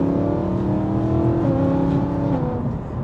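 A BMW M3's engine revs hard after a paddle downshift, a loud, steady, close-up roar with stepped pitch changes and no talking over it.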